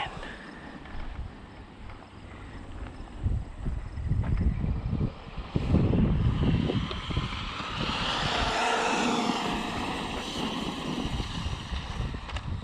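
A Traxxas UDR RC truck runs at full throttle on a dusty off-road course, its steady motor whine and rumbling, rattling drivetrain building louder through the middle and holding at a constant roar without any talk.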